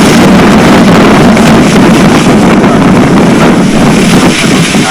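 Strong wind buffets the microphone in a loud, continuous rumble that roars without a break and covers any other sound.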